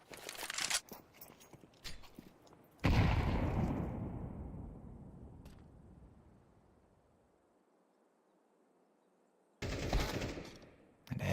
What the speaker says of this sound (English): Shots fired right beside the wall